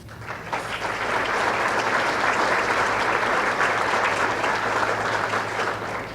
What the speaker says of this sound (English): We'd like to give you a good round of applause.